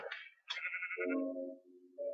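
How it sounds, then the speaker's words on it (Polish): A grey sheep in the Minecraft video game bleats two or three times in quick succession, clear and close, with no other sounds. "Widzicie? Szara owca!"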